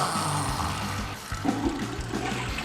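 A toilet flushes as a loud, continuous rush of water, with a gurgling, trickling swirl running throughout, close and heard alone.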